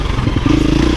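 A 350 motorcycle being ridden, its engine note close and loud with a low rumbling drone that rises into a steadier tone under throttle.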